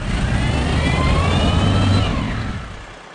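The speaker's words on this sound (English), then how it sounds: "That's the windrow turner truck." A windrow turner truck's engine at a municipal compost site with long rows of food scraps, a loud steady mechanical roar with a rising whine, close by and alone, fading slightly toward the end.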